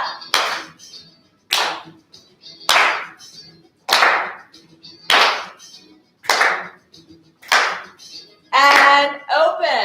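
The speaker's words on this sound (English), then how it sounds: "Let's clap." Single sharp hand claps land in a slow, even rhythm during a fitness exercise class, about eight distinct claps with brief pauses between, followed by a short burst of speech at the end.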